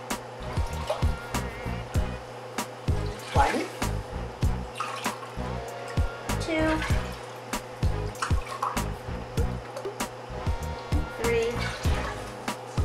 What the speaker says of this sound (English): So add 4 cups of water.